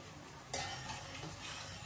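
Turmeric and chili spices being stirred and fried in a pan for a curry, a soft sizzle with a sudden scrape of the spoon near the start, then a quiet, continuous frying hiss.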